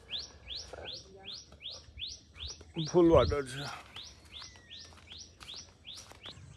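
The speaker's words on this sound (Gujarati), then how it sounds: "પક્ષીનો અવાજ સાંભળો હવારમાં" Birds chirp in a village morning, a rapid run of bright, evenly spaced tweets repeating close by throughout, with a person briefly talking over them midway.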